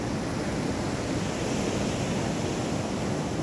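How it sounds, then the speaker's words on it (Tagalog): Strong ocean waves crash and wash continuously onto the shore at Cateel, Davao Oriental, a dense roaring surf with wind noise and no voices. "Malalakas yung alon."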